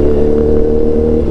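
A Suzuki GSX S1000 GX motorcycle fitted with a Yoshimura exhaust, revving loudly and close with a deep, full engine tone held steady, no talk over it.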